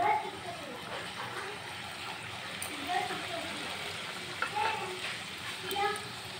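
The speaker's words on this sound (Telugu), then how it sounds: "ఇలా కొన్ని కొన్ని అయితే చేసుకొని ఇలా ఫ్రై చేసుకోవడమే" Small pieces of kharam gavvalu dough frying in hot oil, a steady soft sizzle and bubbling with occasional stirring clinks, close and continuous.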